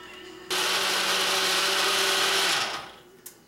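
A food processor whirs loudly as it blends fresh strawberries, starting abruptly, holding a steady high whine for about two seconds, then winding down to a stop.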